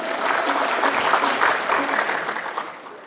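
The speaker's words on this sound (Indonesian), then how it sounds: "Tepuk tangan dulu dong" Sustained applause from a quiz show audience in Bali, steady dense clapping throughout with no pauses, fairly loud and close.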